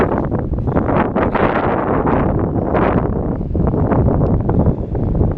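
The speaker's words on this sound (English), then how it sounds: "Now the wind's blowing, so you're going to hear." Steady wind roars and buffets a microphone in a wood in northern Germany, a loud continuous rumble with rustling gusts that never lets up.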